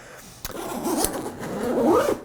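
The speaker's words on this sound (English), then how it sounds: "The bag opens very easily, just like that." A zipper is pulled open on a MindShift Backlight 26L camera backpack in two smooth rasping strokes, close and fairly loud.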